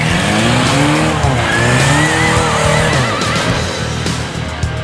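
A rock buggy with a 1.9 liter Volkswagen diesel engine, solid axles and 40-inch tires drives at an off-road overland event. Its engine revs up and down with wavering pitch, loud and close, with some high squealing and no talk.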